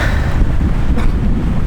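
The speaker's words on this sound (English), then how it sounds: "it is very windy, as you can probably hear" Strong wind buffets the microphone in a steady, roaring low rumble, with no voices.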